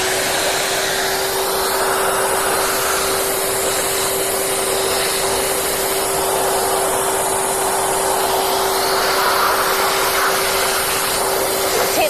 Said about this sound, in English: Here, got the vacuum cleaner, the nozzle.